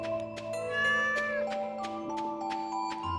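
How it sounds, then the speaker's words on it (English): A cat meowing in the farming video game Stardew Valley, a few drawn-out tonal mews over game music and soft ambient sounds, moderately quiet with no talking. "See a cat."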